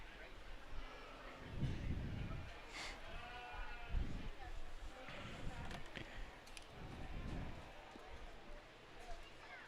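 Breeding sheep, ram lambs among them, bleat repeatedly at a county fair livestock show, loud and close with several calls overlapping amid crowd noise and people talking.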